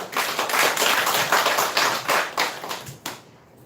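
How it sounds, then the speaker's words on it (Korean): A church congregation breaks into brisk applause, many hands clapping together in a dense, even burst that holds for about three seconds before fading out. "박수하겠습니다"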